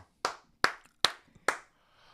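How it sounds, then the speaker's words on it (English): Four sharp, evenly spaced hand claps from a single man, close and dry, with silence between each clap. "I'm going to give myself another round of applause"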